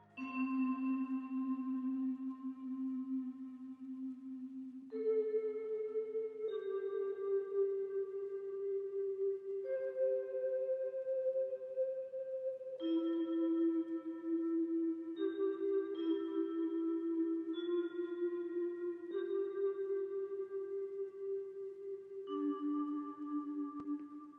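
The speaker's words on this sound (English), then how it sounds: "next I played this on the Mellotron" Mellotron melody with auto-pan, reverb and EQ in a lofi beat, a slow sequence of sustained, overlapping tones that shift pitch every few seconds, steady and close with no voices.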